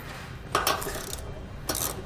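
A wrench snugging up the nuts on the U-bolts of an Ultra-Fab 2-inch trailer hitch receiver on a motor home's 4 x 4 inch bumper, heard as a few sharp metallic clicks and ratcheting clinks, close, with no talk.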